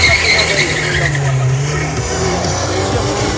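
Drag racing car at the start line, a continuous loud engine roar with a squealing, rising tire-spin tone throughout and no pauses.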